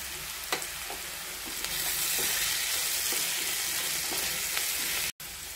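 Potatoes frying in a pan with ginger garlic paste and chili powder for a green peas, tomato and potato curry give a steady, close sizzle with light stirring clicks throughout, briefly cut off near the end.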